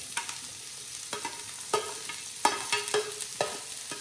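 Cut cabbage, capsicum and onion for hakka noodles are tossed in a pan, giving a soft sizzle under sharp, irregular spatula scrapes and taps, roughly one or two each second, close and clear.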